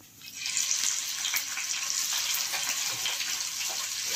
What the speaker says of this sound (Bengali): আমার তেল গরম হয়ে গেছে। আমি এবার চিংড়ি মাছগুলোকে নুন হলুদ ছাড়া ভেজে নেব।